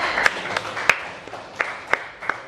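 Classroom applause for a student group after their presentation, a thin, scattered clapping from a small group with a few sharper individual claps standing out over a soft room murmur.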